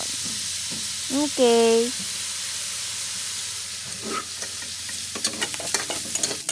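Chicken and meat frying in rendered fat in a pan, a steady close sizzle with stirring scrapes, a brief tonal squeak early on and a short spoken word near the end.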